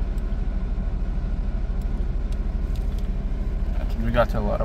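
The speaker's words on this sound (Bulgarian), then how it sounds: "Двигателя работи," Idling 1.6-litre, 110-horsepower petrol engine of a Nissan Micra, a steady low, even rumble held close and loud throughout, with someone talking briefly near the end.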